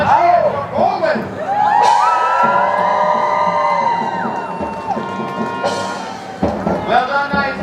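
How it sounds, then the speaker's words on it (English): A crowd of spectators cheers and whoops at a Renaissance festival joust, a broad sustained roar with a siren-like rising tonal voice over it, loud and close, swelling again near the end. "A cheer for Coleman!"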